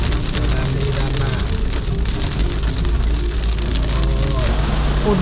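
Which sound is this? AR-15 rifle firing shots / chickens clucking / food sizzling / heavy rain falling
heavy rain falling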